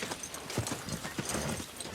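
Horses' hooves clip-clop steadily along a narrow path in a Game of Thrones scene, a continuous rhythmic patter of several animals walking, fairly close and heard over a dense background without talk.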